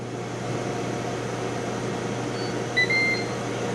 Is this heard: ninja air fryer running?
yes